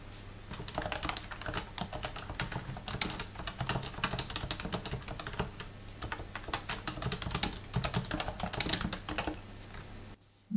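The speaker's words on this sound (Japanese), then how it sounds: "それじゃあここからはタイピング比較をしてみたいと思います。" A standard-switch REALFORCE keyboard is typed on at a quick, continuous pace, close crisp key clicks and thocks in dense bursts for about ten seconds, with no talking.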